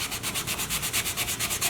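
Plastic being hand-sanded with 320-grit sandpaper during a repair, a quick regular back-and-forth rasping of even strokes, close and steady with no voices.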